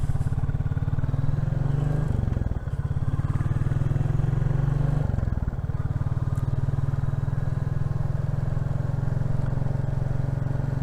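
A Royal Enfield Classic 350 motorcycle is ridden along leafy Cheshire country lanes, its single-cylinder engine thumping steadily and closely throughout with brief dips as the throttle eases.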